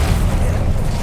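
Incendio fire spell from Hogwarts Legacy erupting as a short, loud, rumbling blast with a dense, steady low roar throughout.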